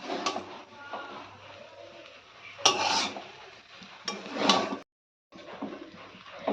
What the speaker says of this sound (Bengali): আমরা আর 5 মিনিট ফ্রাই করে এটাকে নামিয়ে ফেলবো।